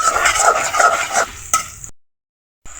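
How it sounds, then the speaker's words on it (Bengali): Onion and green chili fry in oil with a crackling sizzle and a few stirring scrapes, close and fairly loud, then the sound cuts off into silence. "পেঁয়াজ মরিচ ভাজা হয়ে গেছে"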